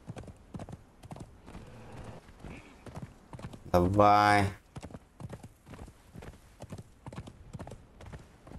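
A horse carries its rider in the video game Conan Exiles, its hooves clip-clopping in a steady rhythm. A loud whinny cuts in midway, and someone talks briefly over the hoofbeats.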